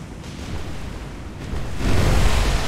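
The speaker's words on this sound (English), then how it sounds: "Oh, we got cargo explosions on somebody." Cargo explosion aboard a ship in the naval combat game War On Sea, a deep, rumbling low boom swelling into a louder, sustained roar over ambient sea-like noise, with no speech.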